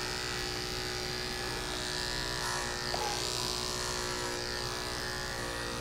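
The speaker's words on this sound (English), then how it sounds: "allowing our clipper to do a lot of the blending for us" Electric dog clippers trim a Shih Tzu's coat with a steady, close, loud motor buzz that continues unbroken throughout, with no talking.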